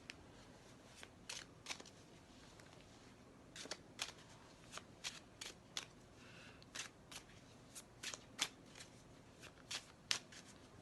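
Tarot cards are shuffled by hand in quiet, papery bursts, with sharp riffling snaps recurring irregularly over about ten seconds, close but soft, with no talking.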